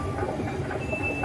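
A Bangkok MRT metro train rumbles at Wat Mangkon station, a continuous rolling hum of wheels and carriages with a faint high squeal, no voices.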